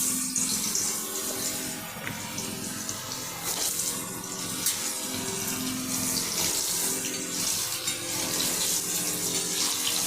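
Cut potatoes frying in hot oil already seasoned with cumin, dried chillies and bay leaves, giving a steady, dense hiss and crackle that carries evenly throughout with no voices over it.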